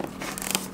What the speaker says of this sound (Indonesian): Jadi gue pakai gunting gara-gara,